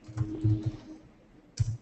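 A few scattered keystrokes on a computer keyboard while entering text into a description field in SAP Business One, light muffled clicks in two short bursts separated by a pause.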